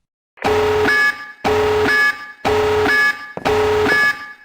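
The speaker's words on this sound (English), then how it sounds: "It's the alarm. Something has set it off." An electronic alarm sounds four times in a regular pattern, each burst a loud, harsh buzzing tone with a rising beep near its end.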